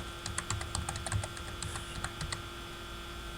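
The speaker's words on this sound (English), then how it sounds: "you can also type it like that" Rapid clicking keystrokes on a computer keyboard, close and crisp, in an uneven burst for about two seconds before trailing off over a faint steady hum.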